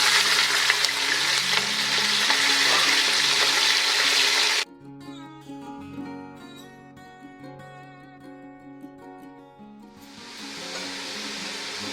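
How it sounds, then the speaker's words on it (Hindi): Chicken pieces dropped into hot oil for haleem, a loud dense sizzle for several seconds that cuts off abruptly, followed by a quieter stretch of tonal background sound before the sizzle returns more softly. "और हम इसी ऑयल में ये सारी चिकन डाल देंगे।"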